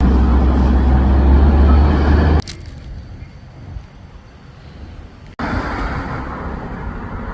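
Road traffic rumbles loudly and close with a heavy low drone, cuts off abruptly into a much quieter hush, then surges back just as suddenly near the end.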